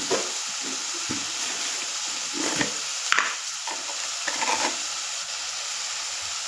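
Chopped capsicum goes into a frying pan with potato over low heat and is stirred, giving a steady oily sizzle with a few louder scraping, clattering stir strokes scattered through, close up.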